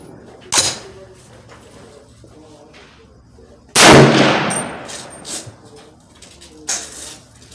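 A DPMS .308 rifle fires at a target 100 yards downrange on an outdoor range: one loud, sharp report with a long decaying tail, framed by a couple of smaller thumps and bangs nearby.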